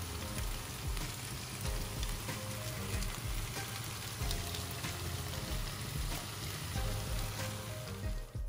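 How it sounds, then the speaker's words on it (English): Honey BBQ ribs sizzle steadily on the grill while being basted, giving a continuous crackling fry that holds even throughout with no voices. "my ribs stayed on the grill for about 25 minutes"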